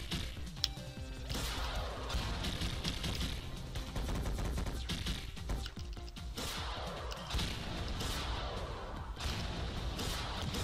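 Big missiles firing and exploding in the video game Megabyte Punch, a dense, continuous barrage of loud crashing blasts and thuds throughout, with no talk.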